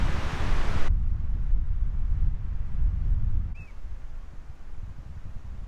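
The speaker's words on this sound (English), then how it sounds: "I'm using my fluffy mic, but it's very windy." Strong wind buffets a furry windscreen on a microphone outdoors on the Isle of Skye, producing a steady low rumbling roar that drops in level partway through, with a faint short chirp near the end.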